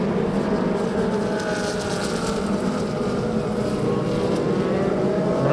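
Formula Vee race cars lapping a circuit during the first race of the 2022 opening round, a steady loud engine drone with harmonic whine sliding in pitch as cars pass and accelerate, no voices.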